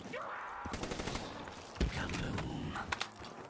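Rapid automatic gunfire in the Call of Duty zombies map Shadows of Evil, a Tommy gun-like weapon rattling off quick bursts with a few louder cracks, fairly close amid game noise.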